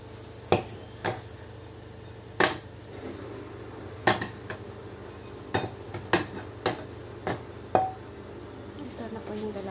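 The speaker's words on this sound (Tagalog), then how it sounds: "Ilagay na po natin sa plato." Banana pancakes set down on a plate in a home kitchen, with a series of sharp clinks and scrapes of utensils against dishes spaced irregularly over a quiet background, close and moderately loud.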